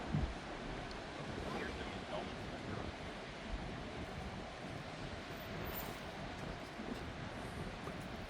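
Wind blows hard across a beach at Pinery, giving a steady, unbroken roar and microphone rumble with a surf-like wash and no clear pauses.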